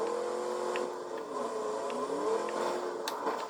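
A car in a driving video game hums steadily with its engine note rising and falling as it is driven, with a few faint clicks over the continuous drone and no talking.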